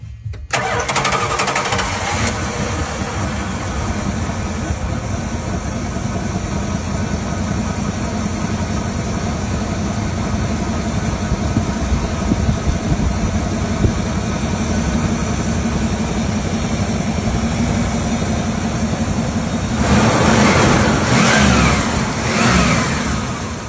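A classic Ford car engine cranks and catches, settles into a steady, loud rumbling idle for a long stretch, then revs up near the end.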